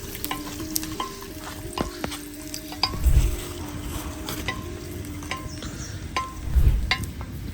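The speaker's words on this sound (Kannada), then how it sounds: "ಇಲ್ಲಿ ನನಗೆ ಗೋಡಂಬಿ ಮತ್ತು ದ್ರಾಕ್ಷಿನ ಹುರ್ಕೊಡೋಕ್ಕೆ ಈಸಿ ಆಗುತ್ತೆ" Cashews and raisins frying in a pan, with a steady sizzle and scraping stirring throughout, plus two short, louder low scrapes near the middle and end.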